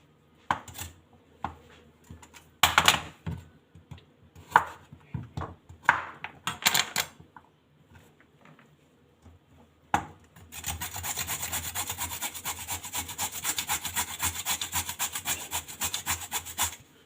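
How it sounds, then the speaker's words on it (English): Raw, unpeeled carrots are grated by hand on a grater, close and fairly quiet, first in short scattered rasping strokes with pauses, then in a steady rapid scraping rhythm. "I'm going to grate my carrots"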